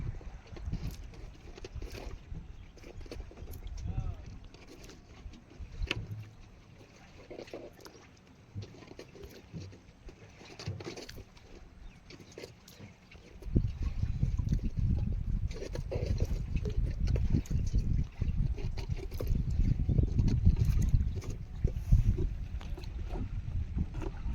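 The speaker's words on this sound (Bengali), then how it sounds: "একটা বড় একটা জাহাজ মানে বাংলাদেশি জাহাজ সব মালপত্র নিয়ে সব এখানে ওখানে যায়" Large Bangladeshi cargo ship passing on the Bidyadhari river, a deep, steady low engine rumble that swells louder and nearer midway, with wind and water noise around it.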